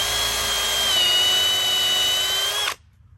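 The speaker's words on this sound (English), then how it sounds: "we're going to drill our first hole" A power drill whines steadily at high pitch for under three seconds, boring into a white oak log, then cuts off abruptly.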